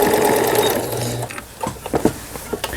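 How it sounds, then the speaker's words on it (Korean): A Juki HZL-K65 sewing machine straight stitching: a steady, fast mechanical whir runs for just over a second, then stops, followed by a few scattered clicks and knocks from the machine. "최종적으로 직선 바느질을 다시 한번 해보고요"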